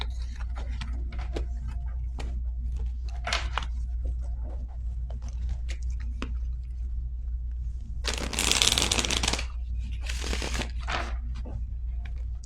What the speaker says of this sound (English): My cards will not shuffle.